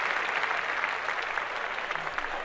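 Steady applause from an audience, a continuous dense patter of many hands clapping at moderate volume.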